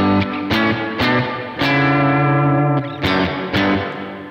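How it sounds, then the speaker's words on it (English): Electric guitar chords struck about every half second through a short-decay reverb pedal, each ringing briefly with a short reverb tail, played alone and fairly loud. "the first one is a short decay reverb"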